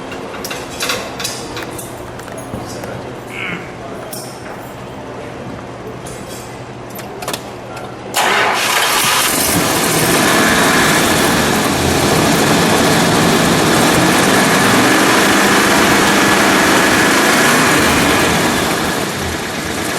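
A white 1969 Dodge Charger Daytona with a 440 engine cranks and fires up partway through, then settles into a loud, steady, rumbling idle heard up close, after a quieter stretch of background noise with faint voices.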